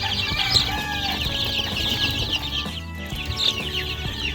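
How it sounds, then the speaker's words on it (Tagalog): Hungry chicks clucking and cheeping around their feeder on a small poultry farm, a steady busy chorus of near, overlapping calls throughout with no talk. "Ayan, gutom na gutom yung mga sisiyo natin."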